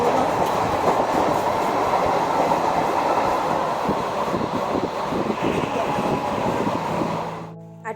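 A moving passenger train heard from inside the coach gives a steady loud rumble with rhythmic clickety-clack of wheels over rail joints, continuous for about seven seconds before cutting off abruptly.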